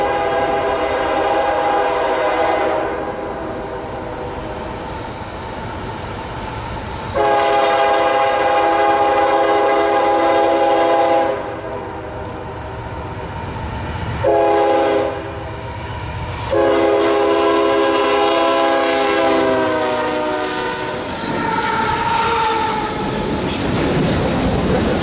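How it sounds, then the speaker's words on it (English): A southbound manifest freight train rolls past the Fiery Run Road crossing in Linden, Virginia, its horn sounding loud and close in several long blasts over the steady rumble and clatter of passing railcars. "we made a stop at the Fiery Run Road crossing in Linden, Virginia for southbound Manifest Train 13R"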